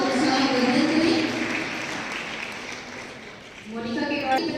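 Applause for students at a school event, a broad wash of clapping from a crowd that fades midway and picks up again near the end, with talk over it.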